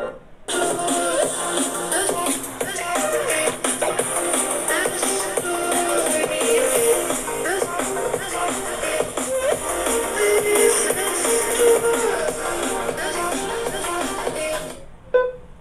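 A realme Buds Air Pro+ case doubling as a Bluetooth speaker plays audio at full volume: a steady, dense stream of music-like sound runs unbroken for about fourteen seconds, close and fairly loud, with no talk over it.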